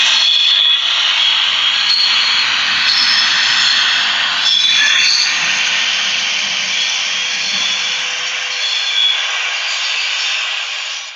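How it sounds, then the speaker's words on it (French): A DCC sound-equipped Ls Models BB 22378 model locomotive plays a sustained metallic screeching friction effect for wheels crossing a turnout, bright and steady for about ten seconds before cutting off, heard alone. "le bruit de frottement de métal lorsque la loco ou les wagons passent sur un aiguillage"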